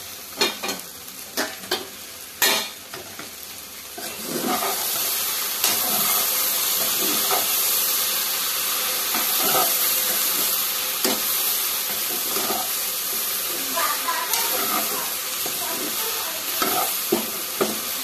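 Sliced okra fry stirred in a pan on low heat: a steady sizzle and hiss with repeated scraping strokes of a spatula, close and fairly loud, no talking.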